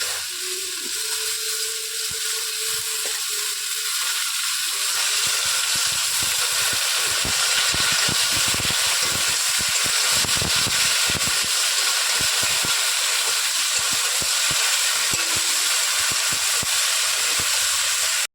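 Arum stalks and potatoes fry steadily in a pan, a continuous hissing sizzle with scattered crackles that grows slightly louder after the first few seconds and holds without pause.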